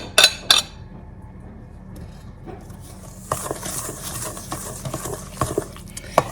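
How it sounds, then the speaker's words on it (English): Wet ingredients for einkorn banana bread batter stirred in a bowl: a few sharp utensil clinks at first, then a steady close scraping, sloshing churn that grows busier toward the end, with no voices. "we're going to just mix this all together"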